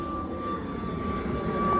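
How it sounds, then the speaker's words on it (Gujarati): An airplane passes overhead, its engine a steady, fairly loud droning hum that swells slightly toward the end, with no talking. "આ પ્લેન જારો"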